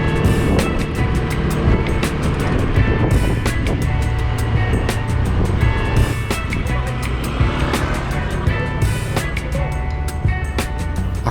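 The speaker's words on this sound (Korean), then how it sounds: "눈은 잠깐이었는데 바람이 너무 세게 불었다." Strong gusting wind roars loud and close during a brief snowfall, a dense broadband buffeting that continues with rapid rattling flutter throughout, no speech over it.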